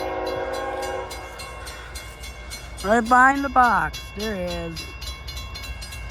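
The CSX M326 freight train, hauling 71 cars, sounds several long horn blasts over a steady rolling clatter while people talk nearby.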